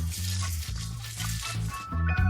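Potatoes frying in oil for homemade fries sizzle steadily at close range, with low rumbling kitchen hum and a few stirring clatters through the short stretch, no talk.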